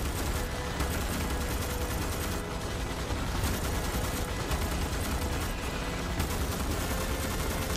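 Heavy machine gun fire in the sci-fi shooter Starship Troopers: Extermination, a dense, continuous barrage of rapid shots layered with overlapping gunfire that stays loud and close for the whole stretch, with no talking.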